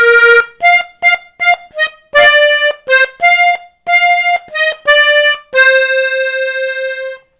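Slowly played on accordion, a song comes as a close, loud run of short reedy notes in a bouncing rhythm, ending on one long held tone, with no voices.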